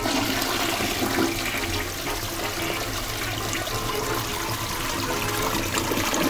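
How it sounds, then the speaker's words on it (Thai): A toy baby doll toilet flushes with a steady, close rush of running water that holds at an even level for several seconds, with no voices. "ทำไมลืมกดชักโครกแบบนี้"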